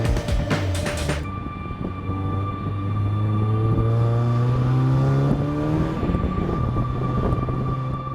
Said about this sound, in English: as he drove off down the pit lane